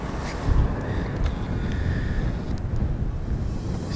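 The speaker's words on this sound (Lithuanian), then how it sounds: "Nes jo, čia vėjai." Wind blows across an exposed outdoor spot by an info stand in a windy, forested area, a steady low roar buffeting the microphone for the whole stretch with no talking.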